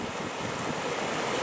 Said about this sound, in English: There's a bit of a breeze there now.